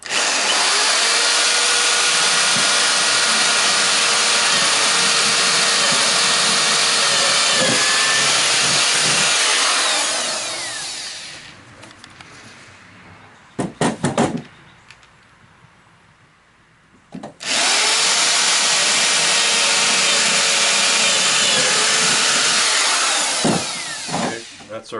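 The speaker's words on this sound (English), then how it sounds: "it's a 3/8 inch brad point, and you just put that point on your mark." A corded drill fitted with a 3/8 inch brad point bit bores into wood for a porch swing, running loud and steady for about ten seconds, pausing briefly, then drilling again for another long stretch.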